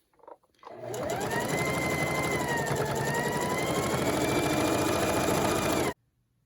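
A sewing machine stitches backwards along a Christmas table runner at a steady whirring buzz, starting abruptly, running loud and close for about five seconds, then stopping sharply.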